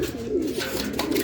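Racing pigeon arriving at the loft after a training flight from General Luna, giving soft throaty coos, close and clear, with a faint rustle behind.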